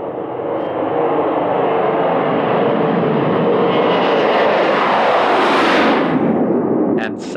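An aeroplane taking off, a loud sustained engine roar that builds and sweeps upward in pitch as it passes close by, then cuts off abruptly at the end.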